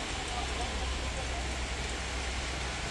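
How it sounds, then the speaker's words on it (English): Rain falling in Lloret de Mar, Spain, as a steady, even hiss of broadband noise with a low rumble underneath, unbroken and moderately quiet throughout. "It's raining,"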